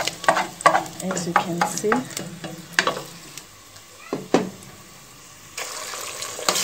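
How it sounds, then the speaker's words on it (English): Eggs frying in a pot beside onion and green pepper give a soft sizzle broken by scraping, clattering stirs, with someone speaking briefly over the cooking. "So using the same pot, you're gonna move the onion and the green pepper aside so that you can cook your eggs"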